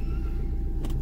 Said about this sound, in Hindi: तो गाड़ी स्टार्ट कर दी है मैंने,